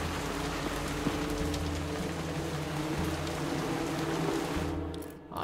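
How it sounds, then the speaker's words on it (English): Rain falling in the war game War Hospital, a steady dense hiss of rainfall over a low rumbling background, continuous and fairly loud, easing off just at the end. "And then it starts to rain."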